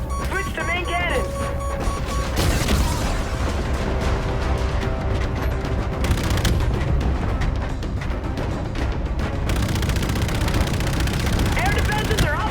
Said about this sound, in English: Use your cannons, Reyes!